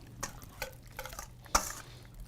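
A whisk works through Buffalo wing sauce, the original recipe from the Anchor Bar in Buffalo, giving scattered scraping strokes and one sharp metallic clink against the bowl over a low background hum.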